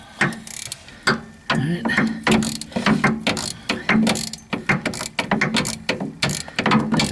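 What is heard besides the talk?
Snap-on long ratchet turning on rear wheel bearing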